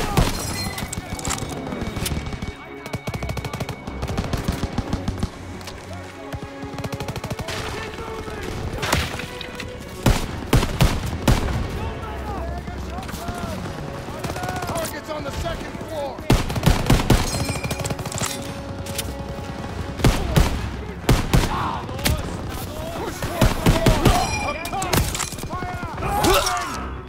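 Machine gun fire and battlefield explosions in Call of Duty: WWII, with MG nests firing from a barn, keep up a dense, continuous barrage of bursts and booms under shouted voices throughout.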